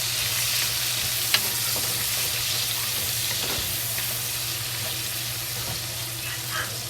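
Ginger and scallion fry in a hot pan with a steady, loud sizzle and occasional stirring scrapes, for making Chinese fried rice.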